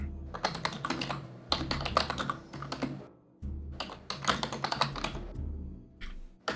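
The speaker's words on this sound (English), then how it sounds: "Your wow. keyboard is so loud." Rapid bursts of computer keyboard typing, loud and close, in two long runs of clattering keystrokes with a short pause between them and no talk.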